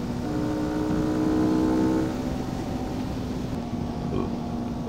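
Close, steady drone of a motorcycle with a K&N air filter pulling along the road, engine harmonics held briefly before easing into a rougher, lower rumble with wind noise.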